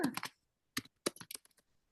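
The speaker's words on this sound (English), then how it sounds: "And I apologize for typing." Typing on a computer keyboard: a few quick clustered keystrokes, then a pause and another short burst of clicks, close and fairly crisp.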